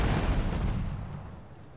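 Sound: shotgun firing in video game GTA 3

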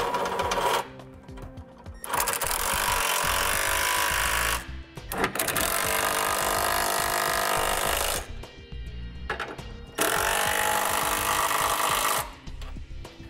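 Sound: tightening trailer hitch hardware with an 11/16 socket

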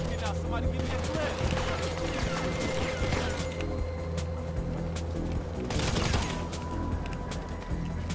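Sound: gunfire in the video game GTA V Online

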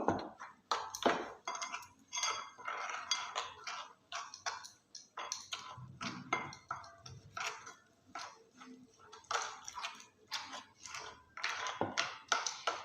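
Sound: whisking gram flour batter with water, utensils clinking

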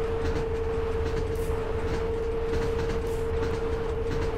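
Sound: train running in Train Driver 2 video game

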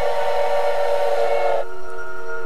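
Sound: train whistle and approaching spider train, video game Choo-Choo Charles

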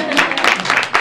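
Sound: audience applause

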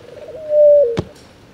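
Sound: pigeon cooing and flapping

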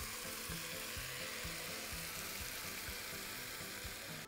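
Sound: stirring chicken with onions in a frying pan

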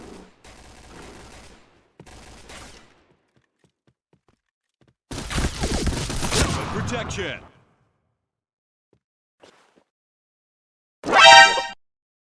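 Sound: shotgun gunfire in video game Point Blank

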